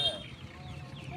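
Chickens, including black hens, cluck steadily at a poultry market in a short, fairly close stretch with faint background voices.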